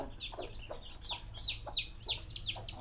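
Newly hatched chicks and hens for sale, peeping and clucking in a steady run of short chirps over a low background hum, close and moderately loud with no talk.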